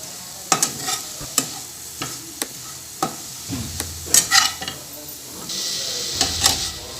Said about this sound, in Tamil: புதினா எடுத்து வச்சுருக்கோம், அதையும் சேர்த்து நல்லா வதக்கிக்கலாம்.